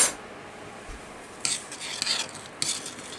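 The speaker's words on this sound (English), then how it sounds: "And then I'm going to stir it." A spoon stirs seasoned rice in a pot, faint scraping and a few brighter metallic clinks against the pot at intervals, close and quiet.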